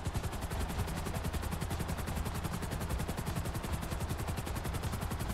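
Rotor thump of a helicopter in Grand Theft Auto V, a steady rapid chopping beat with a dense roaring wash, loud and continuous throughout with no talk.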